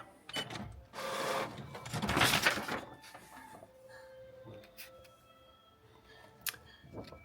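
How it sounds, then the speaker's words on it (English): A Canon G7020 inkjet printer runs a nozzle check, producing a nearby burst of whirring and shuffling paper-feed noise followed by softer mechanical whines and clicks as the print carriage moves. "I'm going to do one more nozzle check"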